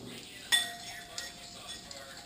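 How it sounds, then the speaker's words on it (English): A whisk works flour into liquid in a small bowl, producing one crisp metallic clink followed by fainter scraping taps against the bowl. "Whisk it up really good, see it gets thick."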